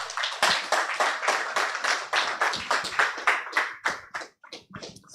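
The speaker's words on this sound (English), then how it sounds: "A round of applause, ladies and gentlemen" An audience at a business blockchain conference claps for a newspaper's deputy editor, a burst of close, distinct hand claps that thins into scattered separate claps toward the end.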